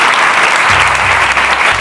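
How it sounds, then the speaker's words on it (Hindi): Congregation applause in a church during a Hindi sermon: steady, dense clapping from many hands filling the space, continuous and fairly loud throughout, with a low sustained hum underneath. "यीशु मसीह के नाम से ताली बजा दीजिए"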